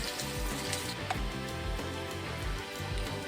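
Chopped garlic sizzles steadily in hot oil over a medium flame, a continuous frying hiss heard under rhythmic background music.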